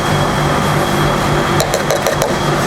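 A mixer churns fly ash into coated polystyrene foam with a dense, continuous mechanical rumble and rattle, close and loud, with sharp clatters partway through.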